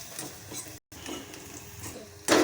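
Asafoetida and turmeric being stirred and fried in a pan, soft scraping and sizzling with a brief gap, then a louder burst of sizzle at the end.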